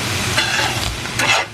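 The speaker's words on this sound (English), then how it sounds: "And I'm going to stir that in really good" Ingredients get stirred into a big frying pan on the stove, a close, busy sizzle with scraping spoon strokes and brief louder bursts as the food is turned.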